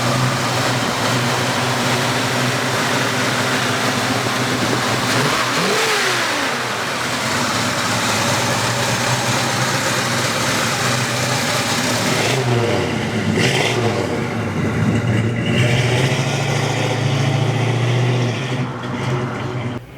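A 1967 Chevrolet Malibu Chevelle convertible's engine roars loudly up close, revving repeatedly with rising and falling sweeps before settling into a heavy, throaty idle.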